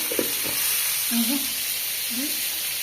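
Taro seasoned with sugar, turmeric and salt fries in a pan in a village kitchen, giving a steady, fairly loud sizzling hiss throughout while people speak briefly over it.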